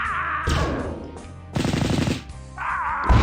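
Tabletop-game gunfire effect for Leman Russ tanks firing on overwatch, loud bursts of rapid automatic shots in a few separate volleys with short gaps between them, no talking.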